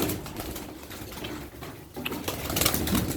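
Pigeons perched on a wire fence coo softly, low repeated calls over a faint outdoor background with a few light rustles.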